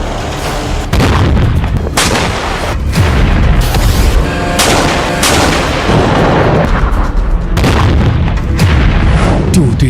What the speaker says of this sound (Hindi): अमेरिका ने एक ऐसी ताकतवर तोप का परीक्षण किया जिसने जमीन से आसमान में उड़ रही क्रूज मिसाइल को तबाह कर दिया